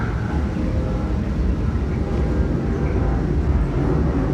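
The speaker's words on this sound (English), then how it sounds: "What a big giant airplane going overhead." A large airplane passes overhead somewhere far from any airport, heard as a steady, loud low rumble that fills the whole stretch without fading, alone with no talking.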